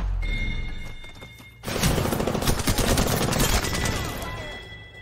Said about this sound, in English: You can't dodge heavy artillery. You know that, right? Alternator, bro.